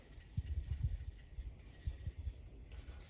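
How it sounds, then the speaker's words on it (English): Steel wool rubbed over chrome trim on a 1975 Scout II to polish it and lift surface rust, heard as two short bursts of close, soft scrubbing strokes separated by a pause, with no talking. "steel wool does a great job of polishing up the chrome and removing surface rust."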